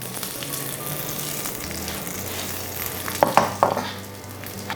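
Curry leaves tossed into hot oil with mustard seeds and dried chillies for curd rice tempering: a continuous close sizzle that flares into a few loud bursts of spitting crackle later on, no voices.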